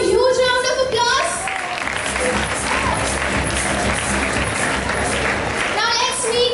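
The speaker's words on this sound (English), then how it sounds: "Can we have a huge round of applause?" An audience at a school English quiz breaks into loud, sustained applause and cheering from children, filling the middle of the clip. Bits of amplified voice and music come at the start and the end.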